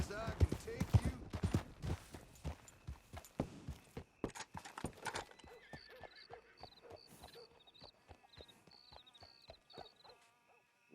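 Horse hooves clip-clop in a steady walking rhythm in Red Dead Redemption 2, loud and close at first, then easing into lighter, sparser steps while faint chiming game sounds come in.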